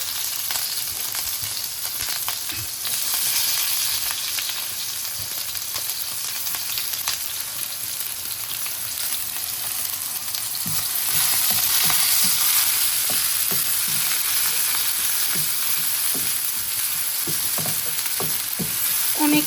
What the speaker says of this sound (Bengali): এখানে আমি এখন কাঁচামরিচ, পেঁয়াজ, রসুন দিয়ে দিচ্ছি পুঁটি মাছ ভাজার জন্য